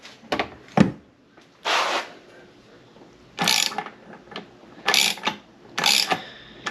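A socket wrench ratchets in several short, crisp bursts of rapid clicking as it tightens the propeller nut on a Mercury Pro XS 115 outboard. The bursts come close by, with quiet gaps between them.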